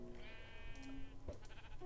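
A sheep in the Minecraft video game bleats once, a short wavering cry that is fairly clear and close, followed by a faint click and some light background noise.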